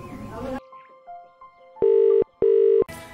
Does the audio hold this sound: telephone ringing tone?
yes